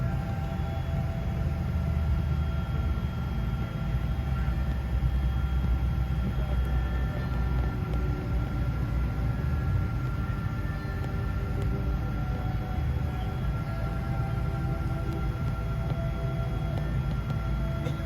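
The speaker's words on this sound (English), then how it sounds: "We made our way to runway and it was time to take off." An airplane taking off from a runway, heard from inside the cabin as a steady, loud engine roar with a low rumble and faint tonal whine, continuous throughout without speech.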